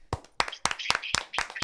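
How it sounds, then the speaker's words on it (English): Several hands clap in a sparse, uneven rhythm on a morning talk show, about seven sharp, close claps spread over under two seconds with short gaps between them. "Let's clap."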